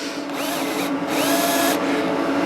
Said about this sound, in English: we get the old said battery drill with a flat battery